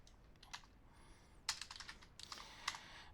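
Computer keyboard typing in short irregular bursts of quick key clicks, close but quiet, with a brief high electronic tone and pauses between the bursts.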